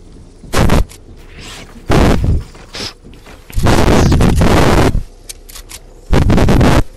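Gunfire during a video game squad match, several loud separate bursts of shots, each a second or so long, set apart by quiet gaps.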